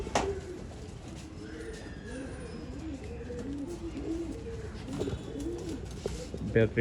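An old line pigeon coos in a repeated, soft, rolling rhythm close by, with faint background noise and a few light sounds around it.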